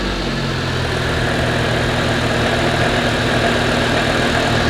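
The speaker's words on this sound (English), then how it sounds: "Car fires right up now. No hesitation." A car engine runs at a steady idle after starting, with a continuous low rumble and hum that stays loud and even throughout, and no talking.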